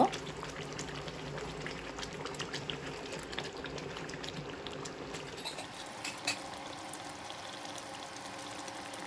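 Chicken simmering in a pot of liquid for a wedding-style chicken roast over medium heat, a soft, steady bubbling and gurgle that is fairly quiet and continuous.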